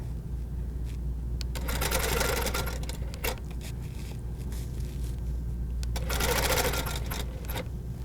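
A Handi Quilter (HQ) sewing machine stitches a quilt along a ruler. It makes two sustained bursts of fast, steady whirring, each lasting a second or two, with a low hum in the pauses between them.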